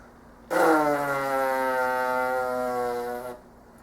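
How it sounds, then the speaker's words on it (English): A single sustained buzzy, brassy drone of wet lips buzzing for French horn, lasting about three seconds, close and fairly loud, with a rich harmonic tone and slightly falling pitch at the start. "make a buzzing sound like this"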